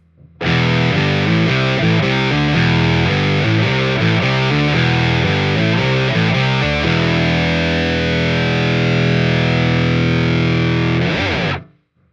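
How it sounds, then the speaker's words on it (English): Electric guitar and bass played together through a pedalboard with distortion and effects, loud and dense, choppy rhythmic chords giving way to a long sustained ringing chord before cutting off. "I can turn both the guitar and the bass on at the same time"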